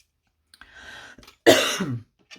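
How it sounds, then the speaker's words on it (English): A person coughs in two bursts, a lighter rough cough followed by a louder, harsher one, close to the microphone with brief silence around them. "I have a terrible cough."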